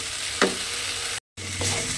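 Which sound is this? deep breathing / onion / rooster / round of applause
onion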